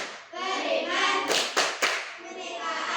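A group of children claps together in a rhythmic classroom chant, a burst of sharp collective claps standing out amid kids' voices.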